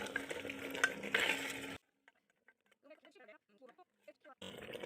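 Spices stirred and sautéed in a pan for handi chicken curry with turmeric, a loud frying sizzle with stirring scrapes for almost two seconds, then near silence with a quiet voice before the sizzle returns at the end.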